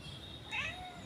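A house cat gives a single short meow in a home kitchen, fairly close and clear against a quiet background, with no talking.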